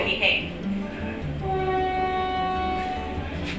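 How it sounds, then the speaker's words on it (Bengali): A Vande Bharat Express pulls out of a platform at Nizamuddin station, a steady rumble with a long sustained horn-like tone, heard from on board alongside voices. "আমাদের ট্রেন নিজামুদ্দিন রেল স্টেশনের সাত নম্বর প্ল্যাটফর্ম ছেড়ে বেরিয়ে যাচ্ছে"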